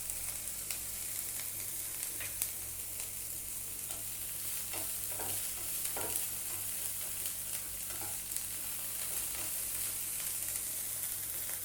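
Shredded cabbage with chopped capsicum sautéed in a pan for a cabbage omelette: a constant hissing sizzle with occasional soft stirring scrapes, quiet and close, no talking.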